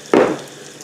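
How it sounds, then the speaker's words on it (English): Single short scraping swirl of a spoon stirring beignet mix and water in a bowl, close and fairly loud, fading quickly into quiet. "Stir with spoon until blended."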